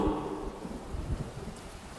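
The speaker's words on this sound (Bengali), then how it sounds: "সাথে সাথে প্রবল বৃষ্টি শুরু হলো।" Heavy cartoon rain pours in a steady, soft wash with a low rumbling undertone, even and unbroken throughout.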